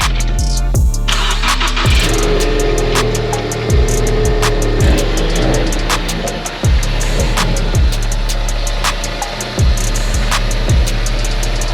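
A budget drag race car's engine cranks and fires, then runs with a loud, rhythmic, lumpy idle, regular pulses punctuating a heavy low rumble close by.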